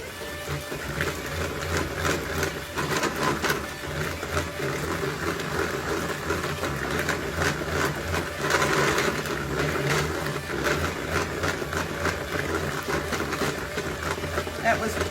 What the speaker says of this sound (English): Now I'm going to put my beaters in there and mix this up real good.